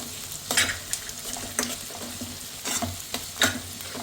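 Small onions and green chilies sautéing in a pan for an egg omelette curry, a steady close sizzle broken by several bursts of spoon scraping and stirring, with no voices.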